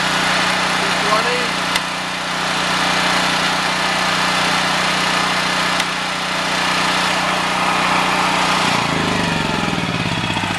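A Honda EM 5000S generator engine runs with a steady, loud mechanical drone that shifts tone near the end as it comes off auto throttle, under faint talk.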